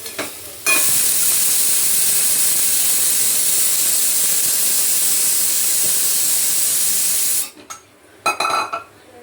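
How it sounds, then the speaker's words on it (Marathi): A pressure cooker on a low gas flame lets off its whistle as one loud, continuous rush of hissing steam lasting several seconds, then cuts off sharply and is followed by light kitchen clatter. "तर आता याच्या 2 शिट्ट्या झाल्यात बारीक गॅसवर."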